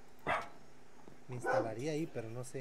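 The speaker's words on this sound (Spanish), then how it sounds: "Ahí disculpa los ladridos, muchachos." A dog barks a few short, loud times near the start and then again more faintly, heard near a house while someone talks over it in Spanish.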